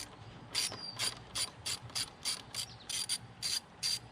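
A ratchet clicks in quick, evenly spaced bursts while loosening hose clamps on a 2015+ Subaru WRX, about ten short sharp ratcheting strokes heard close up with no talk.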